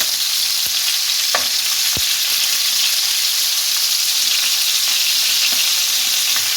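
Marinated chicken pieces frying in hot oil, a loud, dense, continuous sizzle that holds steady throughout, with a few faint clinks and taps beneath it and no talking.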